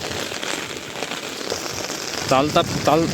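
Heavy rain pours steadily over waterlogged paddy fields during rice planting, a dense hiss close by, with a few voices speaking briefly near the end.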